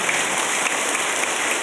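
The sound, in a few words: congregation applause for fathers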